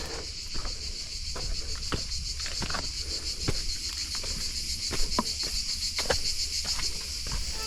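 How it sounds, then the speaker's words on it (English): Cicadas sing among ancient olive trees on terraced hillsides of the Italian Riviera in summer, a steady high buzzing drone throughout, with scattered close crunching footsteps beneath it. "the cicadas sing like their lives depend on it"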